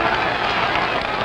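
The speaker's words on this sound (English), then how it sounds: "The crowd is applauding" A boxing crowd applauding as a veteran fighter survives a round: dense, steady clapping and crowd roar filling the arena, broad and continuous with no breaks.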